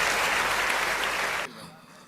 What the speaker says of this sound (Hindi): एक बार जोरदार तालियों के साथ स्वागत कीजिए हिंदुस्तान के उस मकबूल शायर भाई